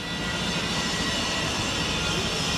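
A steady, broadband roar of an airplane engine, loud and close, droning evenly throughout with no voices.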